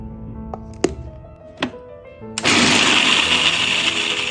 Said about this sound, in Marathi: सर्वप्रथम काजू मिक्सरमधनं ग्राइंड करून घ्या.